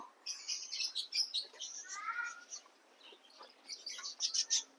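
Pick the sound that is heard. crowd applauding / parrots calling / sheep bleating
parrots calling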